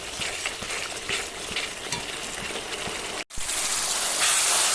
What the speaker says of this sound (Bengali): মশলাটা প্রায় কষে এসেছে